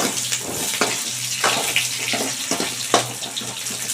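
Onions and curry leaves sauté in a pan for peanut chutney, giving a steady close sizzle with irregular scraping stirs throughout.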